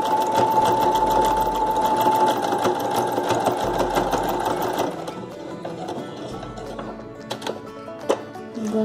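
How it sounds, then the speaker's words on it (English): A sewing machine runs steadily while stitching fabric for a dupatta, with a loud continuous motor drone and rapid needle clatter that eases after several seconds into lighter intermittent stitching and handling taps. "turn the fabric and make a stitch along this line."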